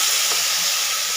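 Whole spices, dried chillies, cloves, cinnamon and cardamom, sizzle in hot oil in a pan for white chicken korma, a loud, even frying hiss held steadily throughout.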